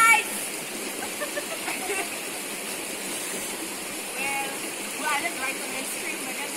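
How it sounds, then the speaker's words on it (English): Steady broadband rush of a flowing river fills the scene, with people talking faintly over it. "we're in the river right now"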